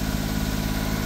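Suzuki Carry kei truck engine, a healthy motor, caught just after starting up, running in a steady close idle drone with a rough rhythmic pulse, no talk.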